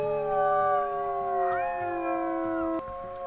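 A wolf howls in the Accurate Ironwolf video game: one long, loud, close, wavering tonal call with a rise partway through and a steady hum beneath, ending abruptly near the close.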